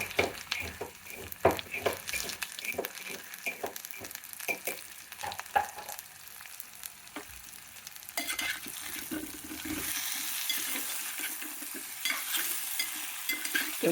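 Taro root (chama dumpa) with salt sizzles in a hot pan while a spoon scrapes and stirs in quick repeated strokes, and the frying hiss grows steadier and brighter toward the end.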